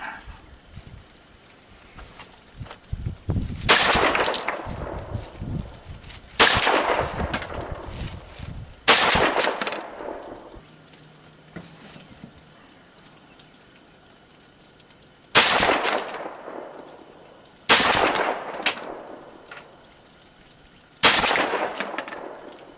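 A 300 AAC Blackout rifle fires at an outdoor range, six loud, sharp reports spaced several seconds apart, each trailing off in a rolling echo.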